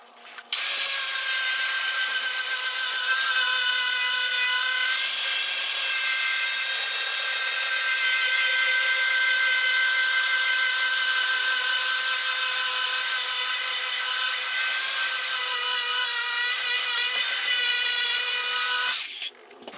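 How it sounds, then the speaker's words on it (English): An angle grinder cuts into a steel car fender to gain tire clearance, giving a continuous loud high-pitched whine with a steady harmonic drone that lasts almost twenty seconds without a break and stops abruptly, close up, with no talk. "So let's grind at it some more."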